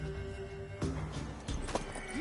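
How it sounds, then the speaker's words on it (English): A horse whinnies in The Witcher 3 video game, a short neigh rising near the end over steady game ambience, with a few soft hoof-like thumps earlier. "Worthy of the best horse. The mare is yours."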